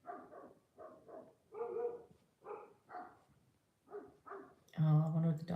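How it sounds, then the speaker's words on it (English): Several dogs bark in short repeated bursts at a moderate distance on a homestead, followed by a louder, closer bark at the end, with a quiet background between barks. "Oh, I wonder what the dogs are barking at."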